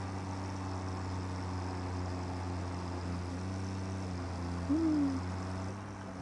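A tractor engine in the game Fortuna hums at a steady low idle with an even drone, and a brief rising tone swells near the end.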